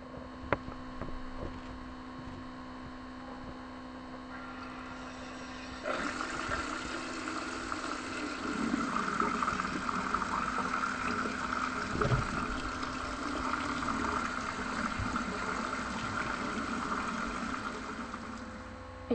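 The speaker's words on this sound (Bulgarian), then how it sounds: "просто да използвате най-лесното трикче, да я поставите под топла вода" A mascara tube held under warm running tap water: a steady stream that swells noticeably louder after a few seconds and keeps pouring evenly to the end, with no voices.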